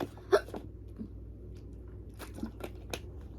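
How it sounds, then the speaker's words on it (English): A person hiccups during a casual talking session, giving a sharp, close hiccup near the start followed by a few softer, scattered clicks and mouth noises over a quiet background. "fucking hiccups."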